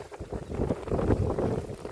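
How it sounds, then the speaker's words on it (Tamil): Strong wind buffets the microphone at an outdoor roadside spot in Sri Lanka, a continuous low rumbling roar with gusty surges, loud and close, without talk. "அப்படி வந்து காற்று அடிக்குது இந்த இடத்துல."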